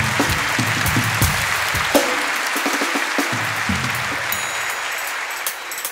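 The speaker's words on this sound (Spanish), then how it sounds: "Un fuerte aplauso para ellos, muchas gracias." Audience applause at a Spanish-language comedy talk show, steady dense clapping that fills the whole stretch at moderate loudness, with no voices over it.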